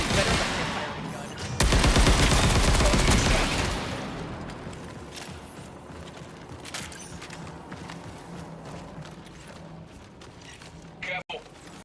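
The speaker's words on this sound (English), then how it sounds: "There's nothing better than a firing gun." Rapid automatic gunfire in the video game Marathon, a loud dense burst for a couple of seconds that fades into quieter scattered shots and game noise, with a player talking over it.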